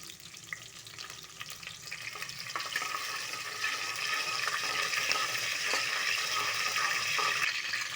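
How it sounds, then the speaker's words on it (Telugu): Curry leaves and green chillies sizzle and crackle in hot oil while pongal tempering is prepared, a steady close frying hiss that builds slightly louder through the stretch, with no talking. "కరివేపాకు వేసుకోవాలి చిట్టపొట్లు ఆడుతుంది"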